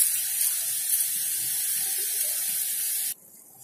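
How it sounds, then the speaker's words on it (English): Rice and moong dal washed in water for usili upma, a steady close rush of running tap water that cuts off abruptly near the end, leaving quieter background. "make sure you wash the rice and moong dal separately"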